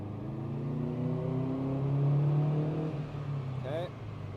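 A Subaru EJ205 engine with JDM AVCS, fitted in a Bugeye wagon, revs up steadily on a dyno pull, its note climbing and holding loud before easing off, with a brief whine near the end.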